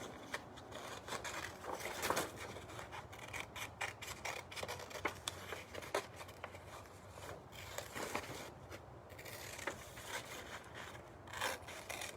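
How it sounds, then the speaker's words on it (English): Scissors snip steadily through paper to cut out shapes for balloon dinosaurs, a quiet, close run of rapid rasping cuts with no talking. "we will cut out all these shapes"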